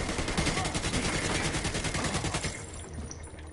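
Rapid automatic gunfire in The Division 2, a dense, loud burst of shots that continues for a few seconds, then cuts off into quieter ambience.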